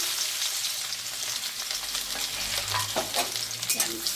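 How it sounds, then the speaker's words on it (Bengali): Dried chillies and crushed garlic splutter in hot oil in a kadai, giving a close, continuous crackling sizzle with a few sharper pops toward the end. "তেলটা গরম হয়ে গেছে, ফোড়নে দিয়ে দিচ্ছি শুকনো লঙ্কা, থেতো করা রসুন"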